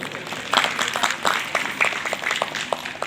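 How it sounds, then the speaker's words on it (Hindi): Attendees at an outdoor Sarna prayer gathering in Ranchi clap together. The applause is a steady moderate patter with individual claps popping out across the crowd, and it keeps going evenly without any voices. "तो इनके लिए एक बार ताली बजा दीजिए सर"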